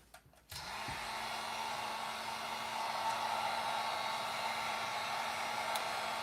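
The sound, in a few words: heat gun heating plastic model parts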